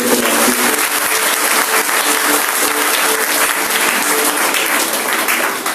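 Loud, dense clapping from a church congregation fills the room without a break, a close and continuous wash of hands with only faint voices underneath.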